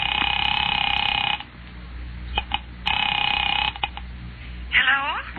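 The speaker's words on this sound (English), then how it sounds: "Picking it up quietly, I dialed my daughter's number, Alec Bartlett's wife." An old-time radio drama phone effect: a steady electronic telephone tone sounds alone, breaks off as the receiver is picked up, then returns with a few clicks and a short rising dial whir near the end.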